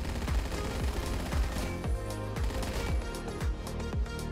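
A PPSh submachine gun fires in the Phantom Forces shooter game, delivering rapid bursts of sharp gunshots in quick rhythmic succession, fairly close and clear, with no voices over them.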